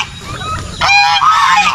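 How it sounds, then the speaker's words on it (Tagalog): Backyard-farm geese honk loudly and close by. A few blaring calls break out after a quieter moment, with no talking. "ang pinakamaingay naming alaga dito, ay walang iba kundi itong mga gansa"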